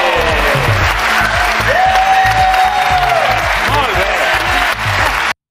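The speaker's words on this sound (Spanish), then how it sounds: "Están aplaudiendo." Studio audience on a Spanish daytime TV talk show applauding steadily for several seconds, loud and continuous clapping with some crowd noise and a voice rising briefly over it.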